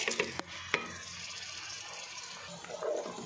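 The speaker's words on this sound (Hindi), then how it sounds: "ऑयल ऐड करने के बाद मैं अब इसके अंदर प्याज ऐड करूंगी" Onions and whole spices frying in oil while being stirred, a soft steady sizzle broken by a few sharp scrapes and clinks of the spoon against the pan.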